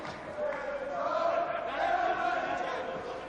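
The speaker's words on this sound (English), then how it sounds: "The crowd are trying to lift Pat Cowdell" Boxing crowd in the tenth round of Pat Cowdell against Carlos Hernandez, a steady roaring din of cheers and shouts that swells and holds loud throughout, with no single voice standing out.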